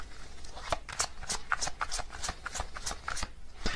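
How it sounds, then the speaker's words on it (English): Oracle cards shuffled and drawn by hand, a dense run of crisp riffling flicks and slaps at close range, steady and busy with no talk over them. "let me get a couple more cards for their characteristics. We'll get a Zodiac card here"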